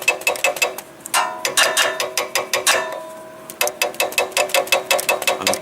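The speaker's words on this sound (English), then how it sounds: "tap on the solenoid. Maybe it will unstick it, maybe it wouldn't" A wrench taps on a forklift's starter solenoid, giving a fast run of sharp, close metallic knocks with ringing tones, broken into bursts by brief pauses.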